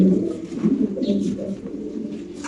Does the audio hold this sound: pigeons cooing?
yes